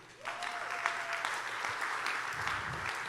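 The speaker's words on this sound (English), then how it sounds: "So a round of applause to our community." Audience at a community event gives a short round of applause, fairly quiet and steady clapping from a moderate distance with faint voices underneath.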